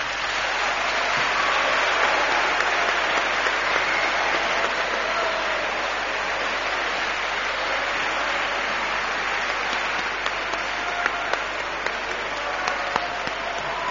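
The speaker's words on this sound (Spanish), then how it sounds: "Un aplauso, por favor, para él." Studio audience applauding a mayor at a mystery-themed night event in Lugo, a dense, continuous wash of clapping that stays loud and even for the whole stretch.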